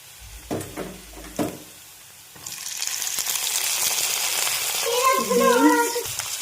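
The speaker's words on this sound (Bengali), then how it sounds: "পেঁয়াজটা লাল লাল করে ভাজা হয়ে গেছে তো এর মধ্যে আমি বাকি সবজিগুলো দিয়ে দেবো" Carrots, beans and capsicum hit hot oil over fried onions and a steady, loud sizzle takes over, with a few clinks from a pan earlier on.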